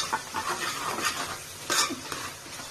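Masala paste for veg biryani is stirred in a pan, a spoon scraping and clinking against the metal in quick uneven strokes over a faint sizzle, close and fairly loud.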